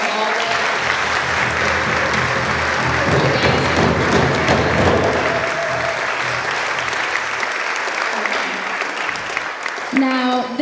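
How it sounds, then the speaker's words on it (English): Loud, sustained audience applause fills an author event during Cleveland Book Week, a dense wash of clapping from a large crowd that thins toward the end, where a voice begins to speak. "Can we give it one more round of applause"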